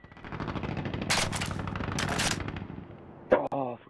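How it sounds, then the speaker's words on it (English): Close, rapid automatic gunfire bursts out twice in Call of Duty 4 multiplayer, with a single sharp shot near the end, and a player's voice talks throughout. "Oh, he's shooting at me"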